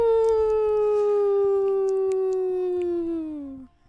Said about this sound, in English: As you start to hear the breath of dogs coming closer.